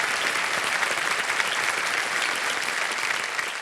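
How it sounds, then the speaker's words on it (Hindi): A television quiz-show studio audience breaks into loud, sustained applause for the contestants, a dense, steady wash of many clapping hands that holds evenly throughout with no talking on top. "बहुत बहुत बधाई आप सभी को और जोरदार तालियां बज जाए उनके लिए"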